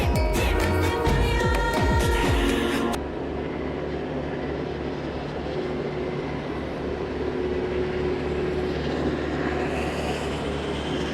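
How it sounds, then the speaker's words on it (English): A tractor on an off-grid homestead does donuts, its engine droning in a steady, continuous rumble throughout, with a brief burst of music at the start. "Who says you can't do donuts on a tractor?"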